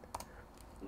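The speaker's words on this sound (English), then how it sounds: "I will press I on the keyboard to set the in point" A few computer keyboard keys are pressed while editing in Final Cut Pro, quiet close clicks in a short cluster followed by a fainter tap.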